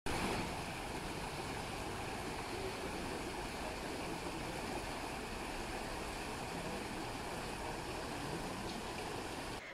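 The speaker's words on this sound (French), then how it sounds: "Bon, c'est une rivière, c'est pas un ruisseau, mais c'est trop mignon." A river rushes over stepping stones in Seoul, making a steady, dense wash of flowing water that stays constant and fairly loud throughout, with no voices.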